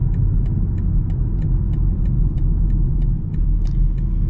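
Steady turbocharged inline-six engine of a 2025 BMW X3 M50, a smooth continuous low rumble heard from inside the car, constant in level with faint regular ticks above it.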